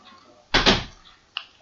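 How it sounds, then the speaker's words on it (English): A door is shut close by indoors with one loud, heavy thud, followed a moment later by a brief, softer knock. "Painter, can you shut the door quick?"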